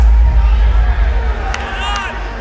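A boxing arena crowd roars as a fight ends in a knockout, a loud, dense swell of cheering with a commentator talking over it.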